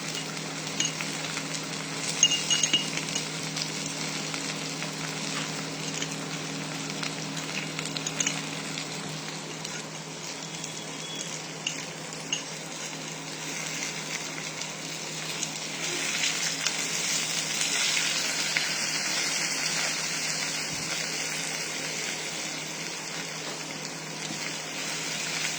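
Ginger and garlic fry in a pan with a steady, close sizzle that fills the whole stretch, with occasional clinks and scrapes of a spoon stirring and no voices.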